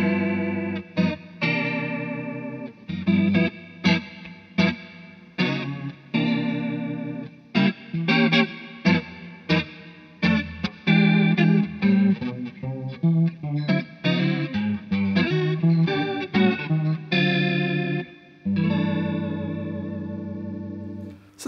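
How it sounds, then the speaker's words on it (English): An electric guitar runs through a Flattley Valkyrie vintage chorus pedal set to a fast, rotary-like modulation, with a lush, warbling shimmer over plucked notes and short strummed phrases. No talking. "that's the Valkyrie from Flattley Guitar Pedals, a lovely lush sounding chorus pedal"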